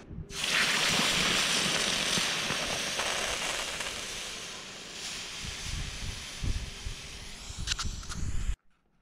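Hot freshly welded steel sprayer bracket plunged into rainwater, a loud hissing, sizzling gush that starts abruptly and slowly tapers with crackling bursts before cutting off, close by with no talk.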